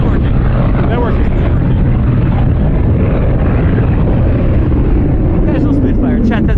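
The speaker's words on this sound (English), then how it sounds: "that's the Spitfire that they sell rides in" A Spitfire fighter converted to two seats for passenger rides drones loudly overhead at an air museum, a heavy rumbling engine roar that fills the whole stretch.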